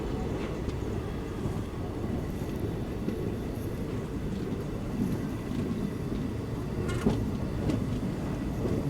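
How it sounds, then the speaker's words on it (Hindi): Low, steady rumble of a passenger train with ICF coaches running along the line near Bina Junction, a continuous rolling drone heard from another moving train with faint rattles and no talk. "सामने उधर देखो वो जो एक ट्रेन जा रही है"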